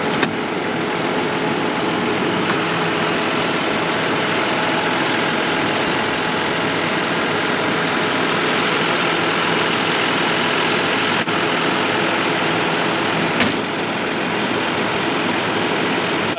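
A warm tractor engine idles steadily and loudly up close, a constant low rumble with a broad roar on top that holds unchanged for the whole stretch, with no voices.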